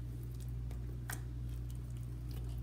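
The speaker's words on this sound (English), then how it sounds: "It's a water slime with some packing peanuts mixed into it." Soft water slime mixed with packing peanuts gets squished by hand, giving faint scattered clicks and wet crackles over a low steady hum.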